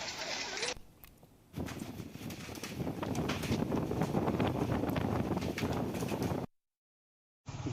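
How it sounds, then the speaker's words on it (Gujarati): Unseasonal strong wind with rain and hail lashes Valsad, Gujarat, buffeting the microphone with a loud, rumbling roar that swells and drops, then cuts out abruptly near the end. "અને ભારે પવન છે ભારે પવનની સાથે સાથે વરસાદ છે"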